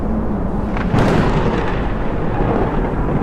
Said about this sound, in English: followed by the rumble of thunder